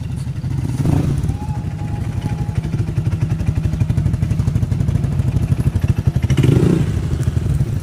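A Yamaha Sniper 155 fitted with a full-system muffler exhaust and silencer idles and blips nearby, a throbbing, pulsing engine note with a couple of short revs, while a voice talks faintly in the background.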